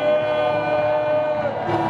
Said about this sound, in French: Que quelqu'un fasse du bruit en poussant des clameurs